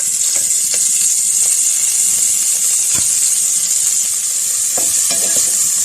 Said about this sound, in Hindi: बाकी तमाम सब्जियां जो है वो इसको थोड़ा सा फ्राई कर लेंगे